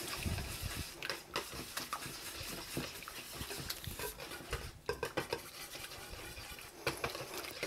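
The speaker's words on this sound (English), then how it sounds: "I have a cup of milk, whole milk, and 1 whole egg. I'm going to stir that together." Whole milk and one egg stirred together in a bowl for cheddar cheese bread, with a steady run of utensil scraping and clinking against the dish, close and fairly quiet, no talking.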